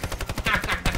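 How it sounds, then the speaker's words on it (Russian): Rapid machine gun fire in an online shooter game, a loud, tightly spaced burst of shots rattling in quick succession. "Из пулемета, смотри, из пулемета."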